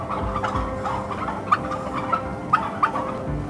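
Turkeys on a turkey farm gobble in several sharp, rattling bursts over a dense, continuous background of flock chatter, close and fairly loud.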